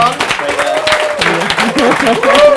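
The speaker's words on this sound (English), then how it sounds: "Big round of applause for Amal." An audience gives a round of applause at a talk, with voices clearly speaking and cheering over the steady clapping throughout.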